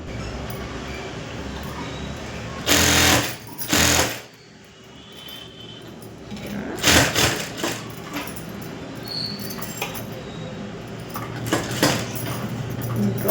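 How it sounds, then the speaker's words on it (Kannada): A sewing machine stitching canvas onto a blouse back neck, with a few short loud bursts of rapid mechanical whirring separated by quieter handling noise and light clatter. "ಹಾಫ್ ಇಂಚ್ ಆ ಕಡೆ ಈ ಕಡೆ ಬಿಟ್ಬಿಟ್ಟು ಸ್ಟಿಚಿಂಗ್ ಮಾಡ್ಬಿಡ್ತೀನಿ"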